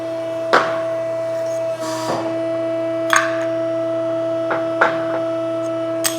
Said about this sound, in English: extend the mandrel and pull the tube out